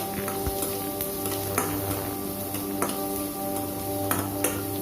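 Shallots and chili powder sautéing in a pan for paneer butter masala, a steady close sizzle with scattered sharp scrapes and taps of stirring throughout, no talking.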